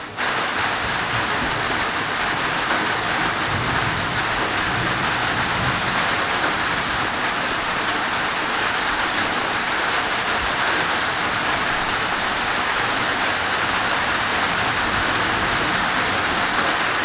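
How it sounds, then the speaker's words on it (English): Heavy tropical rain pours down during a summer thunderstorm in Ohio. A dense, steady hiss runs close and unbroken throughout, with no distinct thunder claps standing out. "Rain's picking back up again."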